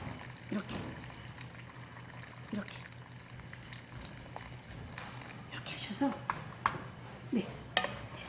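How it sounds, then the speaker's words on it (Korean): Warm water poured over a thick syrup of pear, dried persimmon, ginger and bellflower root for tea, with a soft pour, clinks of dishes and utensils, and someone talking quietly over it. "따뜻한 물로 부으세요"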